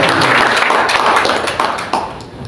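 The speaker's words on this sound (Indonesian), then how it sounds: "Kasih tepuk tangan dulu." Church congregation at a pastoral ordination service breaks into applause, a dense wash of many hands clapping together, loud and close, gradually thinning toward the end.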